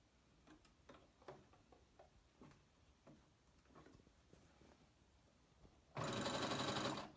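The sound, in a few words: sewing machine stitching a T-shirt dress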